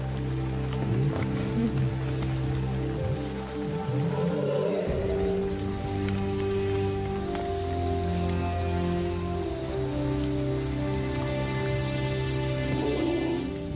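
Steady rain in the Botswana wilderness patters densely on surfaces, a constant hiss of drops that holds evenly throughout without any talking.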